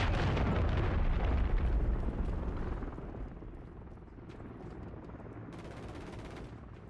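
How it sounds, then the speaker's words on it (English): A cruise missile strike in a video game sets off a loud, dense rumbling explosion with crackling bursts that slowly fades into a lower, steady roar of battle noise. "Friendly cruise missile approaching target."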